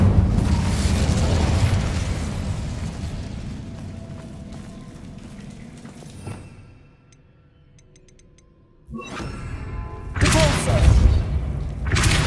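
Incendio fire spell in Hogwarts Legacy, a loud whooshing burst of flame and crackle that fades into near silence, followed by further sharp blasts later.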